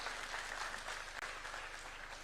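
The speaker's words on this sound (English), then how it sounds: "Let's welcome him with a clap, please." A seated audience at a summit gives a short burst of steady applause to welcome a professor, even clapping throughout with a low hum underneath.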